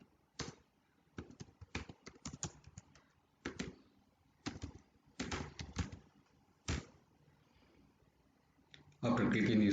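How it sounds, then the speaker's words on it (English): Typing on a computer keyboard: quiet, close bursts of key clicks in uneven clusters separated by short pauses, ending in a louder rustling burst. "So here I am typing a name,"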